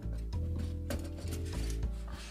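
Small spring clamps squeeze shut on a workpiece for a little woodworking project, giving a few close clicks and ratcheting creaks over about two seconds, with no voices.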